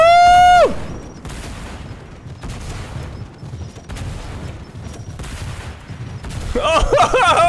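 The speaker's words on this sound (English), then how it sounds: "I just got a rocket barrage" Rocket barrage explosions in the Fortnite battle royale game, a dense run of booming blasts rolling continuously for several seconds, loud and layered, with a descending whistle at the start and a flurry of effects building at the end.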